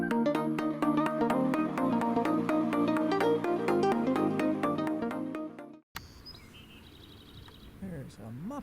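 A mockingbird in the Texas Hill Country mimics an ash-throated flycatcher's call in the distance, faint chirps heard after a loud stretch of music ends and under a quiet outdoor background.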